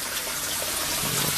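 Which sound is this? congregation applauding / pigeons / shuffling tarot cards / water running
water running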